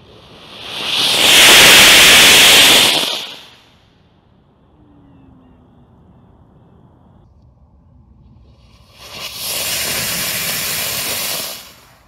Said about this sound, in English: The motor made good thrust, but yet it didn't overpressurize or damage the case, and it had the characteristic erythritol tail.